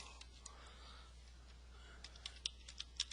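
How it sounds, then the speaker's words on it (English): Typing on a computer keyboard while entering vehicle information into Excel, a few faint scattered key clicks growing slightly denser toward the end, over a low steady hum. "I'm just going to type it all out."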